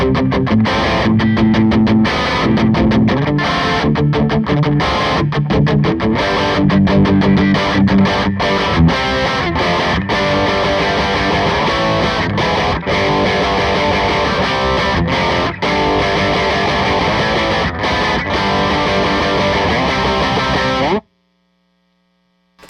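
Jazzmaster electric guitar through a high-gain amp with no modifications, playing distorted, sustained chords and riffs loudly and continuously for about twenty seconds before cutting to silence.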